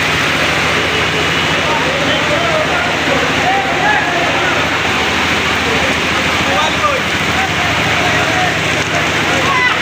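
Rain pours steadily on a line of motorbike riders queuing for fuel in Durgapur, Kurigram, a loud continuous hiss with voices faintly underneath.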